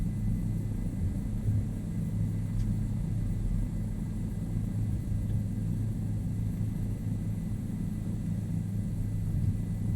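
A Bell 407 helicopter flying and hovering produces a steady, loud rotor and turbine rumble that continues unbroken through the whole stretch, with no talk over it.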